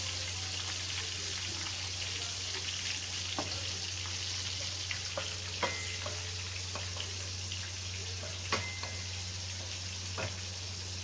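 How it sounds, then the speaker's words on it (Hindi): Stuffed tinda (round gourd) fries in a pan, browning in oil, giving a steady close sizzle with occasional soft pops and light stirring taps throughout, over a low constant hum. "धीरे धीरे टिंडे भी गोल्डन ब्राउन हो रहे हैं"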